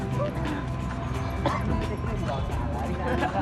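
A dog on a hiking trail near Dharan, out with a group of friends, gives sharp barks and short yips mixed in with people chatting, set against a busy outdoor background.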